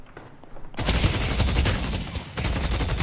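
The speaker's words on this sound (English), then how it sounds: "Gotta shoot the enemies." Dense, continuous gunfire from the hero shooter Deadlock, rapid shots overlapping into a loud sustained barrage that begins abruptly after a quiet start, with a brief dip before firing resumes.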